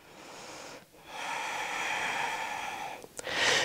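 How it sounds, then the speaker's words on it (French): Deep breathing while holding a dynamic yoga chair pose: long, close, airy inhales and exhales with a brief pause between breaths and a sharper breath at the end, no speech. "Encore trois respirations ici."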